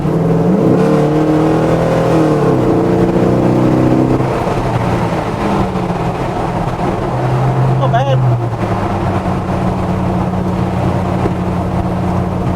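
An LS V8-swapped Toyota Landcruiser drives along at low revs in top gear, its steady engine hum and drivetrain drone continuous and close throughout, with a brief rise in pitch partway through.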